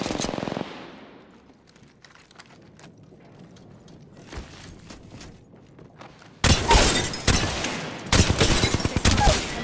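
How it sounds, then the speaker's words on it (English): Loud, rapid machine-gun bursts rip through an Apex Legends fight, starting with a short burst, a quieter stretch of scattered distant shots, then intense close automatic fire dominating the final seconds. "We're down. I'm taking shots."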